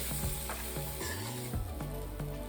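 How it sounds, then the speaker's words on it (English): Masala with curry leaves, for a tofu varuval, sizzling in a pan while being stirred, a constant crackling hiss broken by regular scraping strokes about twice a second, close and moderately quiet, no voices. "Keep stirring it vigorously. Make sure that the masala doesn't stick to the bottom of the pan."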